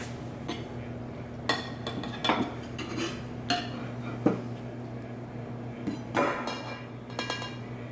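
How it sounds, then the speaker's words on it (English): Cutlery and dishes clink and clatter sporadically as a pork chop plate with sausage mushroom cream sauce is assembled, with sharp close knocks and taps over a low kitchen hum. "I'm going to assemble the plate."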